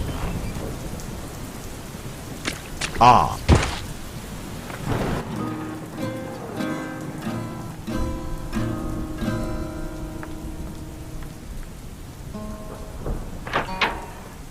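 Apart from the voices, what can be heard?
thunderstorm with heavy rain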